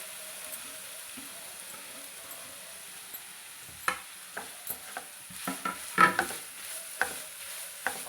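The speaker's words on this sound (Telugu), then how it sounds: "ఇప్పుడు ఉసిరికాయ తురుము ఇందులో వేసుకొని ఫ్రై చేసుకోవాలి." Grated amla (Indian gooseberry) fries in a couple of spoons of oil, heard as a faint low sizzle with sharp scraping stirs growing more frequent toward the end, no talking.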